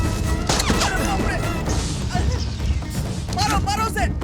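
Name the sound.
gunfire in an action movie scene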